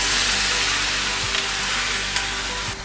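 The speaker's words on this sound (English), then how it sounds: "This is about 8 cups of ripe tomatoes that I'm gonna add to my simmering onions and garlic." Eight cups of ripe tomatoes tumble into a pot of simmering onions and garlic for a creamy vegan tomato basil soup, giving a steady broadband sizzle and bubbling close by that holds throughout, with a soft clatter near the end.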